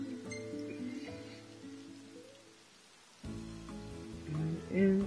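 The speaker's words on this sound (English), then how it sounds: "Sucks when it rains." Rain patters and hisses in Final Fantasy XV, a soft steady wash with a dip in the middle, while faint in-game music and tones sound over it.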